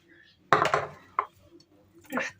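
A metal rack with chicken set into an air fryer: one loud metallic clatter and scrape, then two shorter clinks, close by in a quiet kitchen.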